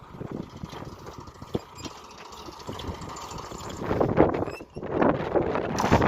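Tractor and JCB backhoe engines rumble steadily at a soil-loading job, the heavy diesel drone continuous throughout and growing louder and rougher toward the end, with wind buffeting the microphone.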